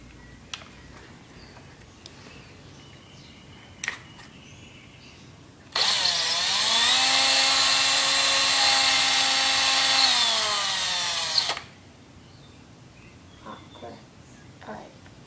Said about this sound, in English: so I gotta drill some more.